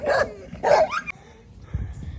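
A dog barks twice in quick succession at close range, followed by a softer low rumble and quiet background.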